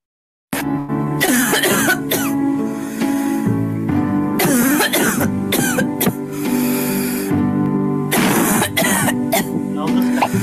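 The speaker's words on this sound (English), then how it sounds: "So first the dry cough." A person coughs repeatedly in harsh, dry, hacking bursts, loud and close, with short breaths between fits and no talking.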